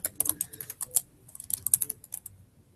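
Quick, uneven tapping on a computer keyboard, a close flurry of clicking keystrokes in short bursts with brief gaps, heard alone without talk.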